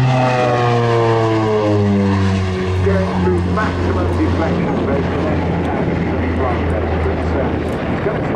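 A North American Bronco propeller aircraft flies at the Southport airshow, its engines droning loudly with sweeping pitch shifts as it passes overhead and descends, while an announcer talks through it.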